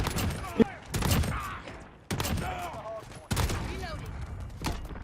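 Bursts of video game gunfire arrive in several sharp, loud volleys separated by brief pauses, with a player shouting and talking between shots.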